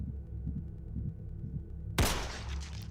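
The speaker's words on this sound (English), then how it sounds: "Fear increased my heartbeat" A heartbeat sound effect plays as a low, soft rhythmic thumping under a droning hum, then a sudden loud, bright burst cuts in near the end and hangs over the low throb.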